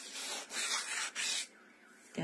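Repeated rasping strokes of sandpaper rubbing a hard plastic surface, three or four bursts with short gaps, close and fairly loud.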